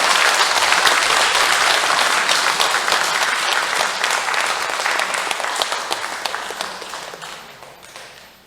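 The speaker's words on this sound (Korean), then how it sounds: "큰 박수 부탁드립니다." Applause from an audience at a Catholic talk on Our Lady of Fatima, welcoming a priest to the stage. Dense, sustained clapping fills the room, then gradually thins and fades toward the end.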